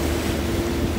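Sea waves at Bessa beach in João Pessoa, Brazil, roar in a dense, continuous wash close by, mixed with wind buffeting the microphone and no voices.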